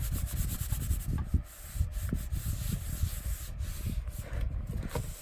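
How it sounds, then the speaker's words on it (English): Glue-covered paper being rubbed down firmly onto an altered-book collage, heard as a continuous close, rough scrubbing friction in quick repeated strokes, steady and fairly loud throughout. "you have to really rub it down"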